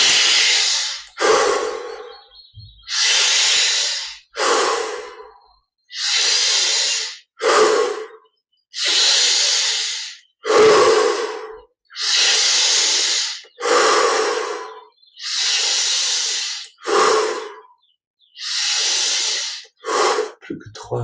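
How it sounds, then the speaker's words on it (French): Deep, forceful breaths drawn in and pushed out in a steady rhythm during guided meditation, about a dozen long inhale-exhale pairs close to the mic with brief silent gaps between them, no talking. "Encore 10 respirations profondes."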